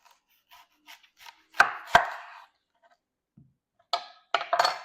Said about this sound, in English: I'm going to start by chopping up my vegetables